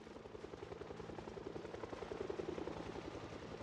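Helicopter flying overhead in the zombie survival game Project Zomboid, a steady rhythmic rotor thump with engine drone holding constant for the whole stretch, moderately loud and heard on its own.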